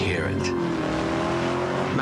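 A car engine roars loud and close in a sustained, rumbling drone with a hint of tire squeal, and a voice talks over it.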